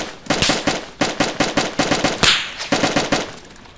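Rapid automatic gunfire in DayZ, close and loud, several sustained bursts of sharp cracking shots in quick rhythm with brief pauses between strings.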